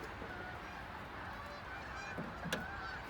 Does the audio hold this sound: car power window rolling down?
no